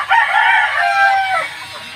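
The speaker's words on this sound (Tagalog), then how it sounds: "Itong tandang natin." A rooster crows once, loud and close, in a farmyard chicken pen: a strained, rising cock-a-doodle-doo lasting about a second and a half, followed by quiet.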